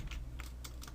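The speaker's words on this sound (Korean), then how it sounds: "escape라고 이렇게 입력을 해놓죠" Keys on a computer keyboard are typed in a quick burst of several distinct clicks over steady low background hum, close and fairly quiet, with no talking.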